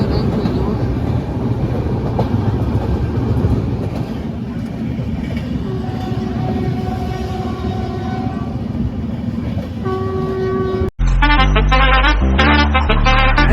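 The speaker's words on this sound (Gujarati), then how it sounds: "જંકશનથી આપણે ટ્રેન નીકળી ગઈ છે" A crowded passenger train leaving a junction en route to Ajmer rumbles loudly and continuously, its horn sounding in steady tones before the sound cuts abruptly to a brief burst of music.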